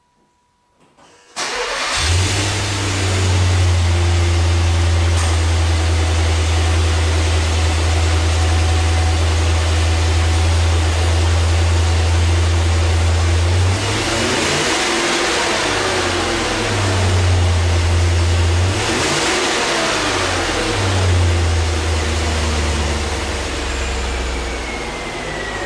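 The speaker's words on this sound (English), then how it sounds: "that dual exhaust. Oh, I love that dual exhaust. It sounds so good." A 2009 Volvo XC90 R-Design with dual exhaust cranks and fires up, then settles into a loud, deep idle with a couple of throaty revs partway through, close by.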